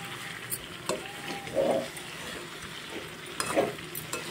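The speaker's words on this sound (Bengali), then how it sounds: "কাজু বাদাম বাটাটা দিয়ে আর একটু নাড়াচাড়া করে একটু কষিয়ে নেব।" A spoon scrapes softly a few times through cashew paste sautéing in chicken curry in a pan, with quiet spaced strokes over a low background sizzle.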